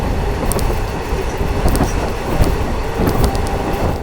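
Continuous rumble of a heritage steam train with a dining car rolling along rails, with steady low roar and repeated brief high metallic squeals and clicks from the wheels, heard from on board without talk.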